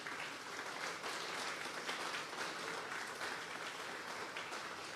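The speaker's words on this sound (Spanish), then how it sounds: "Vamos a darle un fuerte aplauso al Señor." Congregation applauding in church during a Tuesday Bible study service, a continuous, fairly loud wash of many hands clapping with a slightly rhythmic pulse, sustained throughout without speech.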